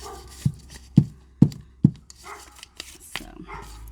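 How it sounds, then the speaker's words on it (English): A dog barks four times in a steady rhythm, then gives a few softer yips, heard at moderate distance over a quiet background. "Gabby dog."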